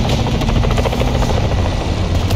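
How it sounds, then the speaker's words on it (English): A helicopter in a video game sounds close and loud, a continuous rotor chop with a dense engine whine and no one talking over it. "They mean dispatch the helo."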